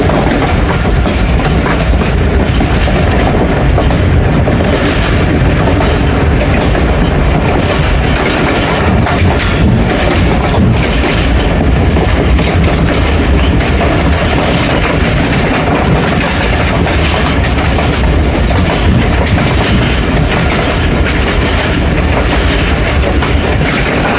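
A train runs steadily past close by near Noor Junction railway station in Pakistan, with continuous loud rumbling and a rhythmic clickety-clack of wheels over rail joints throughout, with no voices.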